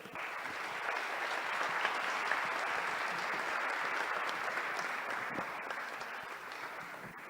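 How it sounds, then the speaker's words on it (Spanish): Sustained applause from an audience at a Jalisco State Legislature event, a dense, steady wash of clapping that holds at an even level for several seconds before tapering slightly at the end. "Un fuerte aplauso"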